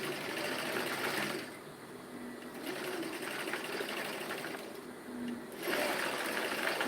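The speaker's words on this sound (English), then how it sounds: "you stitch and backstitch again so that it will be firm. I'm also stitching back again on that same line." Sewing machine stitching a blouse seam forward and then backstitching along the same line: a loud, close, continuous mechanical whirr in sustained runs broken by short pauses where the direction changes.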